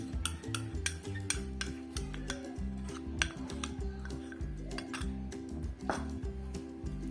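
Spoon stirring a batter of chickpea flour and cornflour for green pea kebabs, a rhythmic scraping and clinking against the bowl repeating steadily throughout, close and moderately loud.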